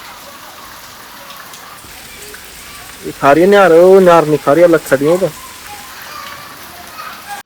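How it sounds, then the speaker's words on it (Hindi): Steady rain hiss from continuous heavy rain runs throughout, with someone speaking Hindi loudly over it in the middle. "2 दिन से लगातार बारिश हो रही है"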